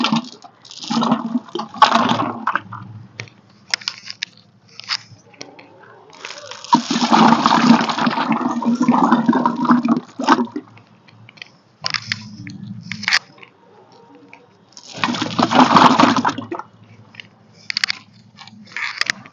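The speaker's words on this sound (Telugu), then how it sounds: "ఈ 5 రకాల రాళ్లను లేయర్ పద్ధతిలో వేసుకుంటున్నా" Five kinds of small stones are dropped in layers into a 25-litre container of OWDC water, giving repeated bursts of close splashing and rattling separated by quieter pauses.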